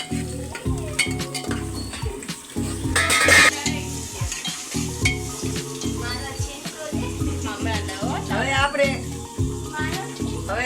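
Garlic chutney and curry leaves are stirred in a sizzling pan with repeated scraping strokes of a spoon against the metal, as frying crackles steadily underneath.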